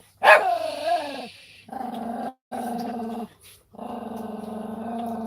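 A dog growls and barks indoors, starting with a sharp close yelp and then giving out repeated rough growling bursts broken by short pauses.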